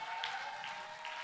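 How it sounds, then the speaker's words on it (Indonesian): An audience applauds steadily after a village orchestra's performance, a dense, even wash of clapping that carries through without a break. "Beri tepuk tangan sekali lagi"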